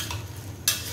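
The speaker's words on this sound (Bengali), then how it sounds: "এখন সবজিগুলো একটু ভালো করে কষিয়ে নিয়ে" Vegetables for bhuna khichuri are sautéed and stirred in a pan, with a brief scrape of the spoon over a steady soft sizzle.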